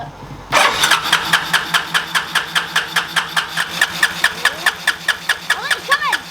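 A Willys mini jeep 4x4 engine is cranked over to pump fuel. It makes a loud, close, evenly paced chugging of repeated cranking pulses that runs without a break, with a faint voice near the end.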